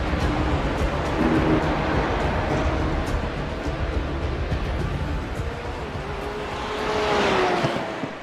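Simulated Porsche race car in iRacing at the Nürburgring 24, damaged, down on top speed and crabbing sideways, its steady engine drone running throughout with a rising, louder passage near the end.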